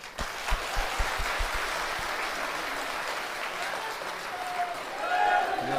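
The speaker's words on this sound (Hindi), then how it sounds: "ताली बजा दें।" An audience at a live Hindu religious darbar claps together, a few sharp claps at first swelling into steady, moderately distant applause with murmuring voices over it.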